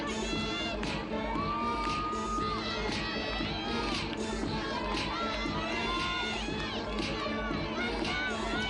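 Loud, steady cheering and yelling from teammates on the sidelines of a 2007 NCAA women's gymnastics floor routine, Alabama at Georgia, with crowd noise swelling throughout the arena.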